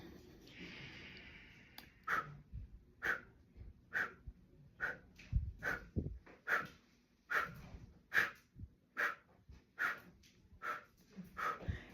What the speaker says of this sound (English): So I take a deep breath in and short, sharp breaths out.